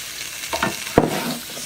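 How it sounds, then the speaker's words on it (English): Lotus roots stir-fried in a pan: a close sizzle with a sharp spatula knock and scraping clatter in the middle, short and fairly loud, no voices. "Stir around a little bit."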